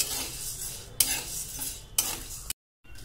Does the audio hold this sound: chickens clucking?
no